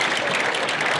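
Cricket spectators at Headingley applaud a batter's century in a brief, dense burst of clapping at steady volume from the crowd around the ground.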